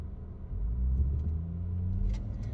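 Low steady rumble of road traffic and engine noise heard from inside a moving car, continuous and fairly loud in the low range, with faint brief sounds passing near the end.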